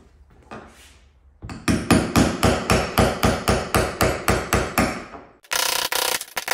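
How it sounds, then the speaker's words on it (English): Rapid metal hammering, about a dozen evenly spaced loud blows in a steady rhythm, knocking off a fuel sending unit ring on a 1994-2007 Ford Powerstroke, followed by a harsh burst of noise. "Hammer the whole thing off all the way around."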